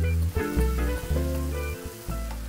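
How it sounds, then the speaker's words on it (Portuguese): Rice grains toasting with sautéed onion in a hot pan for spinach and salmon risotto, steady close sizzling with stirring scrapes throughout. "Refoguei a cebola, coloquei o arroz, a gente tá dando uma seladinha no grão"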